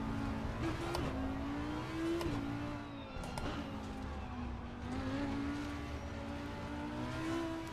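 A GT4 race car in Assetto Corsa Competizione at the Zolder circuit howls through repeated gear changes, revs climbing and dropping in a steady rhythm, loud and close with no talk.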